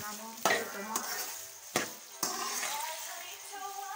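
Onions frying in hot oil in a home kitchen, with steady sizzle under a few sharp utensil clanks against the pan and stirring sounds, fairly close.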